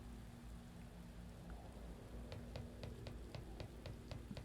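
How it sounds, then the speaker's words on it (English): Steady rain falls in the video game Escape from Ever After, a soft even hiss under a low hum, joined by light rhythmic pattering drops. "Oh, and of course it's raining."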